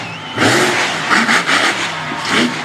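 A monster truck engine revs loudly in a continuous surge during a competitive freestyle run, swelling and dipping as the throttle works, close and dominant throughout.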